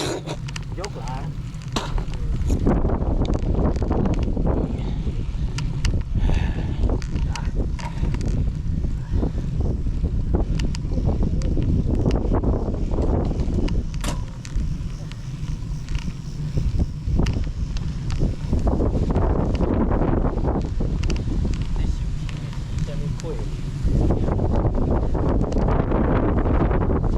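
Strong mountain wind on Mt. Datun buffets the microphone in continuous loud gusts, while people talk throughout.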